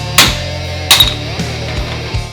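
Two sharp metallic strikes of a big hammer on a Jim's bearing race removal tool set in a Harley steering neck, with a few lighter clinks after, close and ringing briefly.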